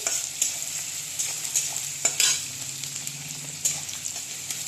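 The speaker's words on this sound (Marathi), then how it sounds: "कांदा थोडं परतून झालं" Onion sautéing in a pan for a yellow moong dal usal, a steady close sizzle with scattered clinks and scrapes of stirring, alone without speech.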